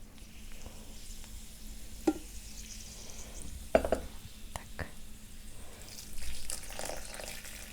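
Water is poured over a mix of powdered clays and chalk for a paste, splashing and trickling in a few brief bursts against a quiet background with a low steady hum.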